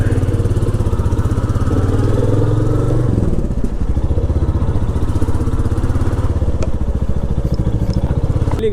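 A motorcycle sets off at the start of a long road ride of more than 700 km, its engine a loud, steady, close chugging drone with a slight change in pitch partway through, and no talk over it.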